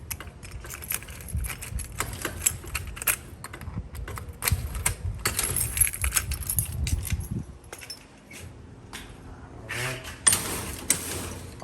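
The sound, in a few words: keys jangling while unlocking a door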